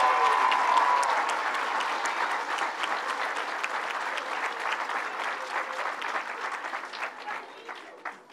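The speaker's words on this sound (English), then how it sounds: "let's give all the teachers at the Rutherford School a big round of applause" A large audience of schoolchildren and teachers at the Rutherford School gives a full, steady round of applause that fades gradually toward the end, with no voices over it.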